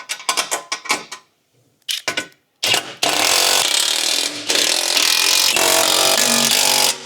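Quick clicking ratchet strokes tighten bash plate bolts on a Nissan Navara NP300, first in short bursts with pauses, then a continuous loud whirring run like a powered ratchet, close up and without talk.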